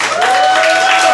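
Applause from the audience at a Democratic Party members' speech contest held during a party leadership election, a dense steady wash of clapping lasting about a second with no voices above it.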